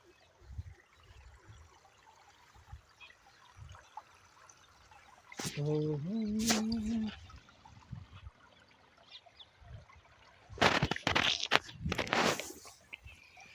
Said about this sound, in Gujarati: છે ગાઈસ પાણી કેવું મસ્ત જાય છે ખેતરમાં